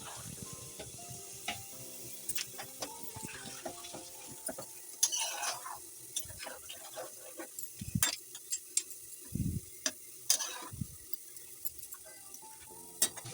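Crab and potato curry simmers in a pan after water is added, a soft low sizzle broken by occasional clinks and scrapes of a spoon, close but quiet.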